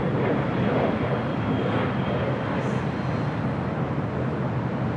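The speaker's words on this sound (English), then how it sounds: "This is Qantas Flight 11 coming in from Sydney, Australia." A Qantas Airbus A380 arriving at LAX from Sydney makes a steady, loud, broadband engine roar that holds evenly through the whole stretch, with no talking.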